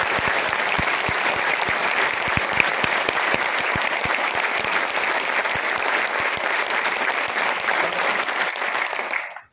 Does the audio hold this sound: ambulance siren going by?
no